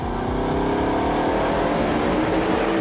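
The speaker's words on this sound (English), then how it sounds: "The last ever outing of Bugatti's remarkable 8-litre quad-turbo W16 engine." A Bugatti car with an 8-litre quad-turbo W16 engine, a loud, continuous deep engine roar rising steadily in pitch as it accelerates hard, close and with no talk.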